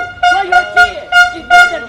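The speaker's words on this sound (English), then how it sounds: "stop the air horn" An air horn blares at a street protest in five loud, sharp, tonal blasts in quick succession, very close and overpowering the surrounding noise.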